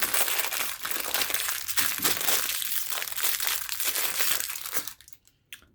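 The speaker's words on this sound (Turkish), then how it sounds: "Şöyle bu paketin içindeki kalan son üçlüyü açıyorum." A plastic package from a Temu haul is torn open, with loud, continuous crinkling and crumpling of the wrapper close by that fades out in the last second.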